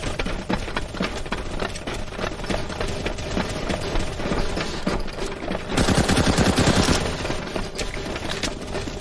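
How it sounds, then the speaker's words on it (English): Rapid automatic gunfire in the video game CS:GO Zombie Escape mode, with dense sustained bursts of shots layered over one another and growing louder and busier partway through, with no speech. "Stop shooting the box!"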